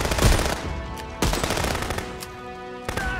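Rapid automatic gunfire rings out in Contraband Police, loud close bursts of machine-gun shots repeating with brief pauses between volleys.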